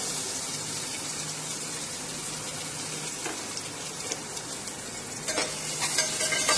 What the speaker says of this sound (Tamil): பெரிய வெங்காயம் நல்லா பொன்னிறமா வர வரைக்கும் வறுத்துக்கலாம்.